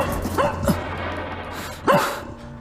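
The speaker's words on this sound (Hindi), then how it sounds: "ओह, ये पिल्ला कुछ बता रहा है।" A puppy barks twice, with sharp yapping calls about a second and a half apart, fairly close and moderately loud over a low background hum.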